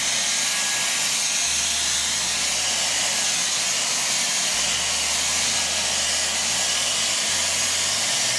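A Dyson Airwrap hair styler blows steadily on medium heat and medium speed, giving a close, loud, even airflow roar with a low motor hum that shifts slightly throughout, and no voices.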